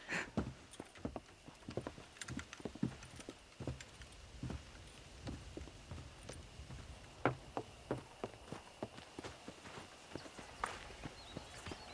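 Horse hooves clip-clop at a walking pace in the Red Dead Redemption western video game, a steady run of sharp, distinct hoof strikes on firm ground, fairly close, with no talk over them.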